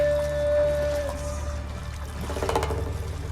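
Water splashes and pours as men dance and bathe in a drain channel, with a watery trickling rush rising toward the end beneath a steady low hum and a faint tone.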